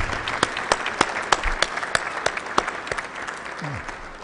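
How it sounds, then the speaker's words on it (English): Members of the Hawaii House of Representatives applaud honorees in the legislative chamber, a warm burst of clapping from a moderate crowd with sharp individual claps standing out, fading slightly toward the end. "Members, can we give them a warm round of applause?"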